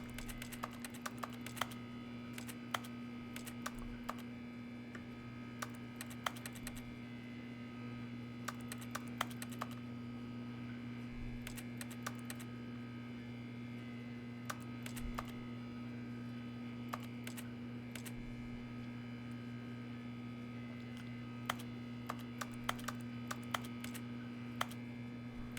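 Rapid keyboard typing and mouse clicks during PC play of The Stanley Parable Ultra Deluxe, sharp clustered taps scattered over a steady electrical hum, close and crisp, with no talking.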